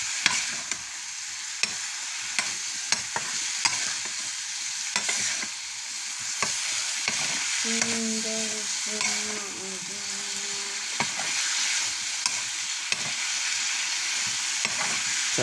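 Food frying in a pan sizzles steadily while it is stirred, with periodic scraping strokes and a brief tonal hum in the middle, no talking.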